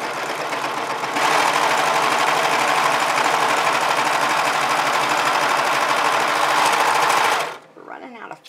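A 1034D serger overlock machine stitches through cotton and stretch fabric in a loud, steady mechanical whir. The whir holds for about six seconds, then stops abruptly and leaves quiet handling noise.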